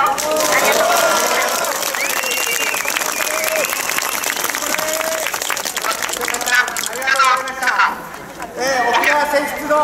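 Sustained crowd applause at a rally outside the National Diet in Tokyo opposing a military base at Henoko, Okinawa, loud and steady throughout with cheers and voices mixed in, easing slightly toward the end.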